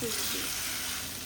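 Spices for a tempering crackle and hiss in hot oil, a loud, bright sizzle filling the short moment, with a brief voice at the start.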